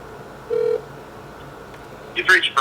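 An outgoing phone call rings with no answer: a single electronic ring tone sounds briefly, followed by a short burst of speech.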